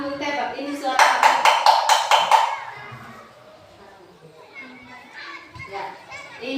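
A tin can is struck by a teacher in a classroom, giving a bright, ringing series of about seven quick metallic strikes, loud and close, surrounded by children's voices and chatter.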